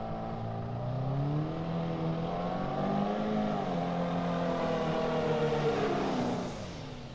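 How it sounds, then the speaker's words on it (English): A hot rod semi truck does burnouts at a truck drag race, its big diesel engine roaring and revving with rising and falling pitch, loud and sustained, with no voices over it. "The Hot Rod Semi with those big, nasty, fat burnouts."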